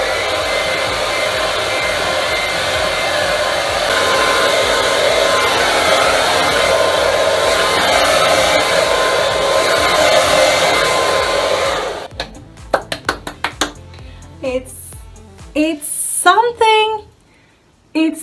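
A hair dryer blows steadily on freshly dyed orange hair for about twelve seconds, a loud close whooshing roar, then shuts off and someone speaks in the quiet that follows.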